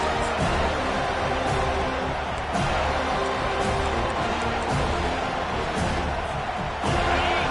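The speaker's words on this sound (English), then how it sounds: "This crowd bringing the energy and noise early." A packed football stadium crowd at an FSU versus Texas game roars continuously, a dense wall of cheering and noise that stays loud throughout with small surges, no clear voices standing out.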